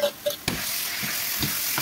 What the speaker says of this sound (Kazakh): Қазанға май құйып қыздырып, алдымен пиязды шыңғыртып, шыжғырып, қызарғанша қуырып аламыз.